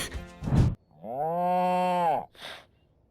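A cow in The Sims 4 game, irritated after a bucket is knocked away: a short huffing snort, then one long, loud, sustained moo, followed by a brief breathy puff, close and alone.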